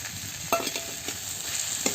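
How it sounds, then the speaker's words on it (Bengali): Prawns for a potato-prawn curry frying in a hot pan, a steady close sizzle under repeated scraping strokes of a spatula stirring them, with no talking. "চিংড়ি মাছগুলো দিয়ে দেবো"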